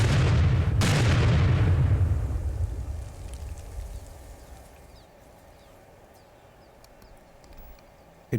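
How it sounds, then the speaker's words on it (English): A landmine detonates in a minefield: a heavy, close blast at the start that rumbles and decays over a few seconds into faint scattered debris patter and quiet ambience. "It worked. Miss Marple's mine is destroyed"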